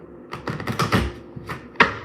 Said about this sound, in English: I'm gonna shuffle the affirmations deck